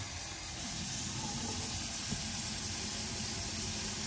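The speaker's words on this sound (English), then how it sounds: "We're gonna add some hot water right on the top." Hot water poured onto puppy mush, a steady, close pouring and splashing wash that runs unbroken for the whole stretch with no talk over it.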